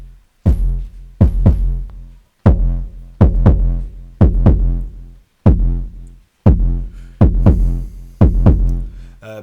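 Distorted, filtered kick drum from a Gotharman Little Deformer 3 hitting in a steady loop, about a dozen loud, punchy booming thumps with gritty decaying tails, up close with no talking.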